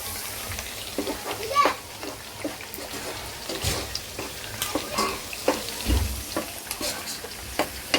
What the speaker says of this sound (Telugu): ఇది మనం పచ్చివాసన పోయేంత వరకు కూడా బాగా ఫ్రై చేసుకుందామండి